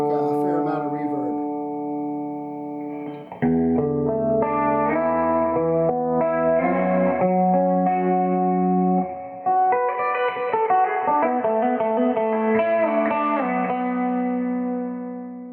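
Electric guitar played through an amp with a generous reverb wash, sustained chords and ringing single notes rising and falling in steady phrases, fairly loud and clear with lingering tails, no talk.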